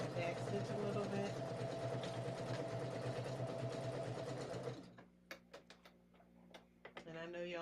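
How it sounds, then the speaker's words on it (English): A sewing machine runs steadily and loudly for several seconds while sewing a dress, then stops, leaving a few brief clicks and light handling sounds before a voice starts talking. "I'm going to back stitch a little bit."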